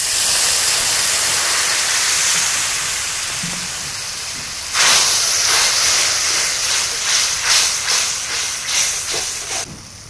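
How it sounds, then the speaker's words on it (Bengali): Wet spice masala sizzling in a pan after water is added, a steady steam-like hiss that bursts louder with crackling pulses in the latter half, heard close with no talking. "এখন আমি মশলাতে একটু জল দিচ্ছি, দিয়ে জলটা দেওয়ার পরে খুব ভালো করে মশলাটা আরেকবার কষিয়ে নেব"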